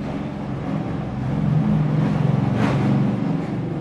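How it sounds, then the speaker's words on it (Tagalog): A motorized tricycle's engine rumbles steadily nearby as it passes, a low continuous drone that swells slightly midway with no talk over it. "Padali ko lang yung tricycle guys, so sobrang ingay."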